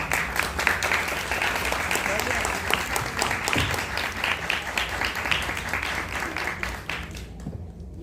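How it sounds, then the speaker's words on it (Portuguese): An audience at a tribute to Mãe Filhinha of the Irmandade da Boa Morte in Bahia breaks into sustained, dense clapping, loud and steady before fading slightly near the end, with some voices mixed in. "Palmas para essa hora."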